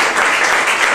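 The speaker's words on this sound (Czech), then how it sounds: "Now can we give Jesus just a hand clap of praise and thanks?" A church congregation clapping loudly and continuously during a Sunday service, dense applause filling the whole moment with no pauses.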